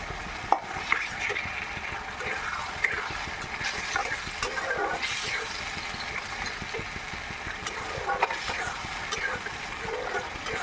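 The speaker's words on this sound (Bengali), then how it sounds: "চালটাকে দিয়ে ভালো করে নেড়ে চেড়ে নিচ্ছি" Gobindobhog rice stirred in a pan, a spatula scraping and clattering steadily under a constant low background rumble and faint sizzle, close by, with no voices.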